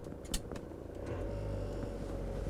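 An old truck, a cab-over camper on a dealership lot in Niort, with its engine running: a steady low rumble heard from close by, starting after a few faint knocks and staying even.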